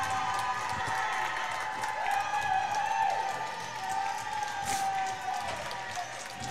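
Hockey crowd at a playoff game cheering and roaring steadily, a dense wash of voices with whistles and shouts rising and falling throughout.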